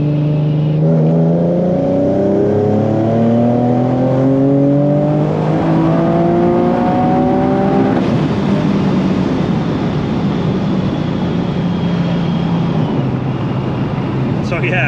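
A supercharged Nissan 370Z engine revs hard and climbs through the gears, pitch rising repeatedly, with a loud supercharger whine over the roar.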